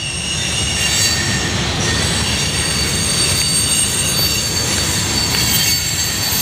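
Norfolk Southern eastbound manifest freight train led by an ex-Conrail SD60M locomotive, wheels squealing loudly and continuously over a rumbling roll of railcars, braking or rounding a sharp curve.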